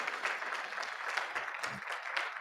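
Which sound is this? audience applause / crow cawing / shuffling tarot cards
audience applause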